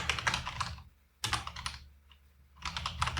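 Rapid keystrokes on a computer keyboard while entering Python code, two close bursts of clicking separated by a short silent pause, then a third burst.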